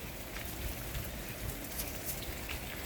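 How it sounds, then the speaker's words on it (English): Gentle summer rain falling steadily, a soft continuous patter and hiss with occasional louder drops and no voices. "we needed a nice gentle rain"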